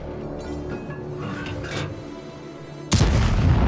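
Tank cannon fire in a tank video game, with the T-150 on city maps: a sharp, loud broadband blast near the end of the clip, following a rumbling engine bed with a few fainter distant reports.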